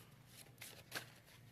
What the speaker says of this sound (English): I'm gonna shuffle that again.